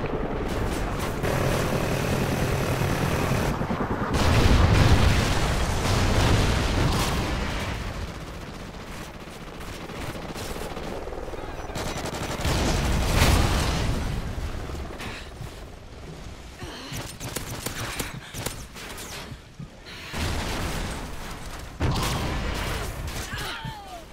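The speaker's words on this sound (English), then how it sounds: "Friendly Trinity rocket inbound." Call of Duty Ghosts multiplayer match with a Trinity rocket strike: loud bursts of gunfire and booming impacts over a roaring aircraft-like drone, with several heavy surges and no talk.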